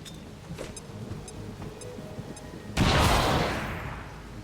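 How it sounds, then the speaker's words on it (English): A grenade detonates in the video game XCOM 2: a sudden loud broadband blast that rings out and slowly decays, following a stretch of quieter game ambience with faint clicks. "Throwing grenade."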